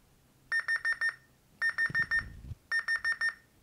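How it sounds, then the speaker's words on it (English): A digital hospital countdown timer alarm beeps in three bursts of rapid electronic tones, each burst about four beeps, with a short rustle between them. "Now when it hits zero, the alarm will go."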